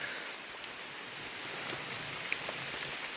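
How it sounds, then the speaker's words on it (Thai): Rain falls at night outdoors during a hunt for ground-nesting wasps, a steady soft patter under a constant high insect-like drone, with no voices. "วันนี้ฝนตกด้วย ค่อนข้าง จะลำบากนะครับ"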